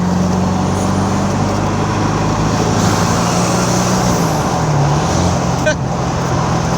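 A 1988 Callaway twin turbo Corvette with a four-speed overdrive gearbox cruises with a steady engine drone and road noise, the engine note dropping briefly as it downshifts into third gear.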